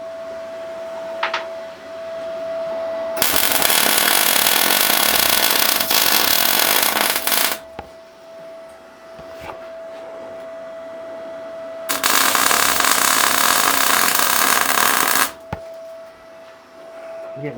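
A left-hand drill bores into a snapped stud. Two long bursts of loud, close, gritty drilling are separated by a quieter stretch, with a faint steady tone running underneath throughout.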